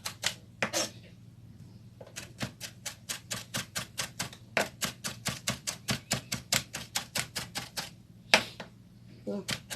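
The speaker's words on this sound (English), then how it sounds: "So I'm going to just try to give you rough chop." Rapid knife chopping on a cutting board as ingredients for a meat-filled pepper soup get a rough chop, a steady run of sharp close taps with two brief pauses between bursts.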